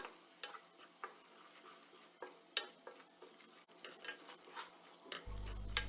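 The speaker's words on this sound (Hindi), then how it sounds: "अब हम इसे भूनना स्टार्ट करेंगे" Sieved gram flour with small cardamom roasts in oil over a low flame for besan halwa, while a utensil scrapes and stirs the pan in irregular strokes against a faint sizzle.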